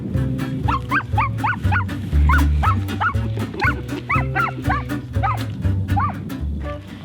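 A hunting dog barks repeatedly out in sagebrush high desert during an upland hunt, the sharp, close barks coming in quick bursts over a low rumbling background.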